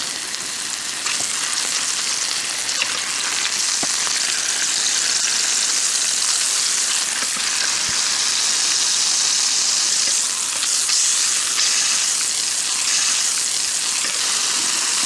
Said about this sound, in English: I'm going to try to sear all, the sides have a nice fat cap on them